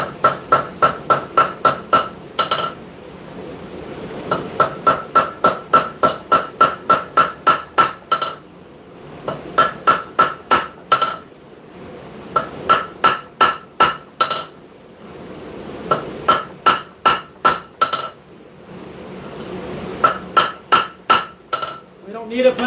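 Hammer planishing 80CRV2 steel on an anvil, loud ringing metallic strikes in quick bursts of several blows separated by short pauses, with bright anvil ring close by.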